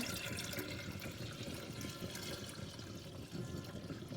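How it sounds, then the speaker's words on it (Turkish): Cold water pours steadily into a licorice root sherbet mixture, a continuous rushing, splashing flow at moderate level throughout with no pauses. "Evet, şimdi soğuk suyumuzu ekleyeceğiz."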